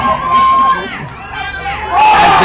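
Crowd noise at a live indoor football game of the San Diego Growlers, a broad roar of voices and cheers that swells, dips and rises again, loud and close.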